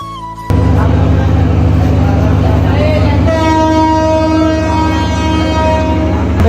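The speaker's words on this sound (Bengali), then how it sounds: "অবশেষে আমাদের ট্রেন চলে আসলো" Passenger train arriving at a station on the Ramu to Chattogram line in Bangladesh, a loud, close rumble of rolling wagons joined midway by a long, sustained horn blast.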